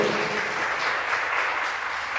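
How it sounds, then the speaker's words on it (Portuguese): A church congregation applauds in praise during a worship service, producing a dense, even wash of clapping that stays steady and fairly loud throughout. "Vamos aplaudir o Senhor."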